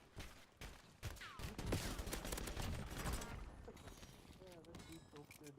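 Rapid gunfire in a video game, a burst of overlapping shots and impacts, fairly faint, with a person talking alongside.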